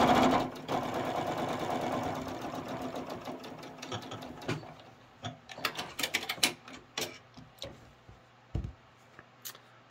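Sewing machine stitching a quarter-inch seam through quilt pieces, a steady whirring run for about four seconds, then short stop-start bursts with light handling clicks between them.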